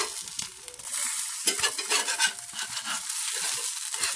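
Eggs fry in a favorite frying pan at breakfast, a steady close sizzle and crackle running through the whole stretch with bursts of spattering, no voices over it.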